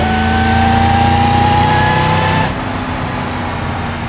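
A supercharged car engine in the racing game BeamNG revs loudly with a high supercharger whine rising over the roar, then the pitch drops as the throttle eases off.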